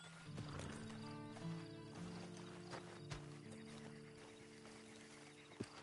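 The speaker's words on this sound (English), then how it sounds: "And you better get on this horse." A horse in the video game Red Dead Redemption 2 whinnies and its hooves clip-clop, set against a sustained musical drone, with a sharp thump near the end.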